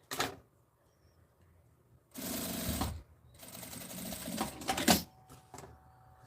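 A sewing machine stitches a seam on a fabric pouch lining, with a short burst followed by two longer rapid mechanical runs separated by pauses, close and fairly quiet.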